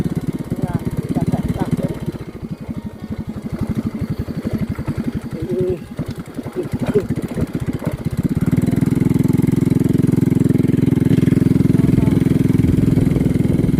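Motorcycle engine while riding, first a sputtering uneven putter under talking, then rising to a steady louder drone in the last seconds.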